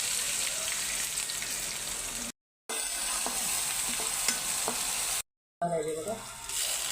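Onion frying in a pan with curry leaves and garlic, giving a steady close sizzle and crackle with scraping stirs, broken by two short silent cuts.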